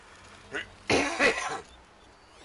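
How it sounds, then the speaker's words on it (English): A man coughs twice in short bursts, one brief and then a longer harsher fit, close to the microphone during a home gaming session, with quiet room noise before and after. "It's my medicine making me cough here."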